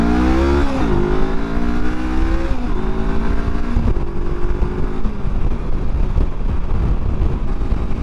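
A 2021 Honda CB500X motorcycle accelerates hard from a rolling start, its engine note climbing steadily and dropping briefly at each of several quick gear changes, loud and close over constant wind roar.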